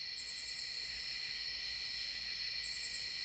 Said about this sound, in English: In the meantime, I have crickets